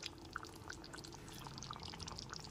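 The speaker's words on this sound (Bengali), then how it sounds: "এরপর এর মধ্যে দিয়ে দিচ্ছি হাফ বাটি পরিমাণ জল।" Half a bowl of water poured into a pan of cauliflower roast gravy, a soft, steady splashing trickle with scattered droplet ticks, faint and continuous for a couple of seconds with no talking.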